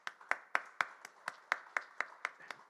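Steady rhythmic clapping from a small church congregation honouring lay missionaries, about a dozen evenly spaced crisp claps at moderate volume with no talk over them.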